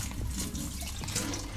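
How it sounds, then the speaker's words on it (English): Water squeezed out of cooked cauliflower for keto cheese sticks, a continuous close trickling and splashing of liquid, heard alone without talk. "So that's all the water that came out the cauliflower."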